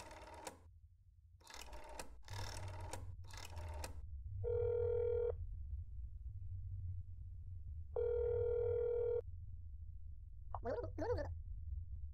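In the video game That's Not My Neighbor, a telephone rings twice after a number is dialed, each clear electronic ring lasting about a second, with brief voice bursts before and after.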